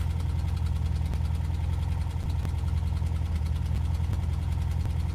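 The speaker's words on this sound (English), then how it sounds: "Should I keep revving it" A car engine with a rough, uneven note and audible knocking, its oil recently checked for a leak; it runs steadily for several seconds with a strong low throb, close and loud, and no voices.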